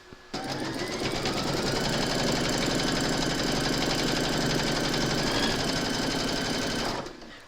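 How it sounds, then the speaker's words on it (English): An embroidery machine stitches batting onto a coaster held in a hoop, a fast, even mechanical whirring chatter that starts abruptly, runs steadily for about seven seconds, then stops. "Pop your hoop into your machine and stitch round number 2 to secure it."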